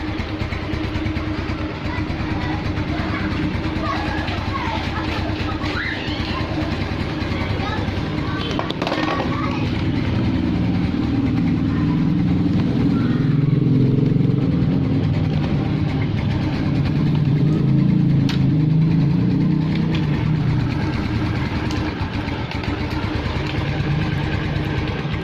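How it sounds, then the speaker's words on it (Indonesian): A Yamaha NMax motorcycle engine idles steadily nearby with a continuous low chugging rumble throughout, some rattling and background noise layered over it. "Nah oke, udah nyala ya mesin."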